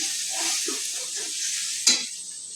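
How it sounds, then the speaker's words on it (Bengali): Onion and garlic fry in a pan with a steady, close sizzle, broken by soft stirring scrapes and one sharp clatter of a utensil partway through. "পেঁয়াজ আর রসুন ভাজা হয়ে গেছে"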